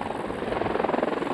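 Firefighting helicopter flying over a wildfire near Lytton, British Columbia, its rotor beating in a loud, rapid, steady chop, close overhead and alone.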